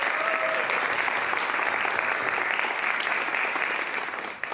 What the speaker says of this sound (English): I want to make sure that we all give one more round of applause to Doug for such an amazing event.